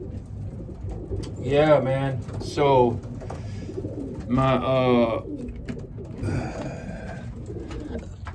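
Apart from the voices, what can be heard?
racing pigeons cooing in an aviary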